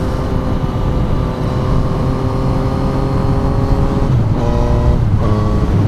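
Yamaha MT-09 inline-three motorcycle engine under way on a ride, loud and close with a steady harmonic drone and two brief dips and pickups in pitch near the end, like gear changes, with wind rush behind it.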